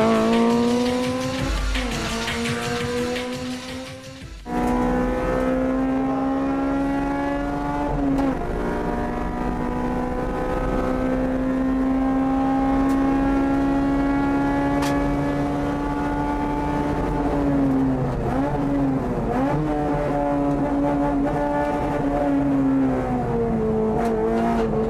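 A Honda Integra Type R Group N race car built by Spoon Sports driving hard on track, its engine revving loud and steady at high pitch, dipping and climbing through gear changes, with no talk.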